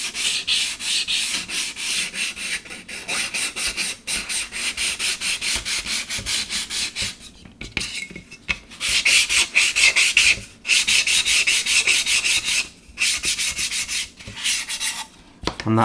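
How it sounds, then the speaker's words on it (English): Sanding of plastic parts on a Trumpeter 1/200 scale Scharnhorst warship model kit: steady, close abrasive rubbing strokes running almost continuously, with a few brief pauses between passes. "I can't see any shiny plastic, so I know we've sanded everything"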